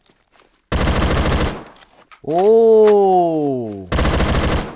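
Automatic gunfire from the video game Phantom Forces with a 5.56 conversion, two loud, close rapid-fire bursts separated by a pause that holds a voice exclaiming.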